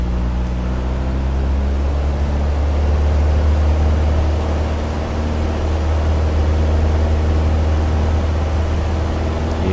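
Steady broadband engine roar of an airplane taking off in a flight simulator game set over Tuscany, a loud continuous drone with a low hum that holds throughout with no talking.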